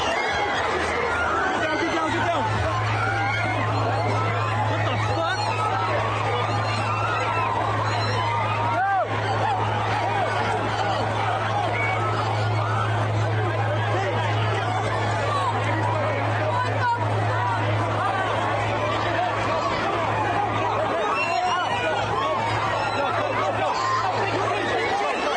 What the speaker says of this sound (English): Show you a little bit of the crowd.